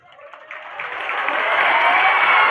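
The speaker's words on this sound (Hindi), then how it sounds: "तालियां पूरी नहीं आ रही" An audience applauds after a stage play in Begusarai, the clapping starting thin and swelling steadily into a dense, sustained round.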